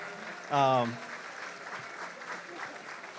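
Audience applause in a gala crowd for executive director Chloe Chells, a steady wash of clapping throughout with a brief loud harmonic voice-like cheer or whoop near the start.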